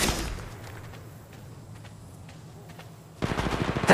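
Gunfire in Apex Legends Mobile: a burst of loud shots at the start, a quieter stretch of distant scattered shots, then a rapid close automatic burst near the end.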